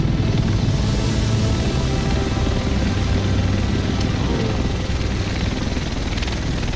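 Helicopter in the video game The Division, a steady loud rotor and engine drone throughout, as if heard from inside the cabin, with no talk.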